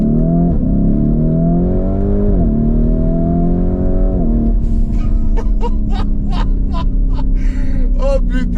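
A sports car engine revs hard and climbs through several gear changes, then keeps droning while someone talks over it.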